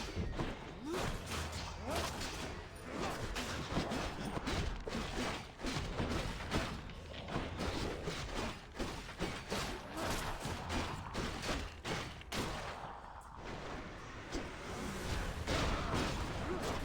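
Repeated explosions and dense combat thuds from the action game Hades, a busy stream of bangs and impacts with steady game noise and an occasional voice underneath.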